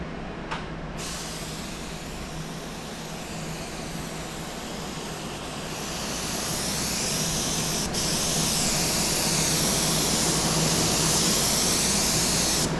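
Paint spray gun coating a box van during DIY bodywork, a continuous airy hiss that swells louder about halfway through, with no voices.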